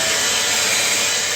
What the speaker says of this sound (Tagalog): maingay itong blower.